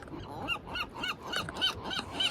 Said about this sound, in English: Seagull's buddies are back.